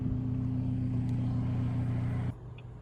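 A Volvo S60 Polestar engine and exhaust hold a steady, deep droning rumble, then the level drops abruptly near the end to a quieter idle.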